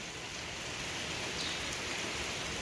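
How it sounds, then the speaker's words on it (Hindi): Heavy rain pours down in a steady, dense hiss of drops striking surfaces nearby, constant and unbroken, with no voices over it. "गाइस, हमारे यहाँ बारिश देखिए,"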